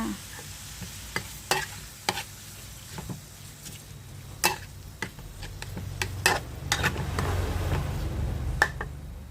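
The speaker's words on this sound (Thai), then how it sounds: "ผัดผัดผัดให้เข้ากันด้วยจ้า" Chicken curry paste being stir-fried in a pan, with a continuous sizzle that swells toward the end under frequent sharp ticks and scrapes of a spatula, close and clear, with no voice present.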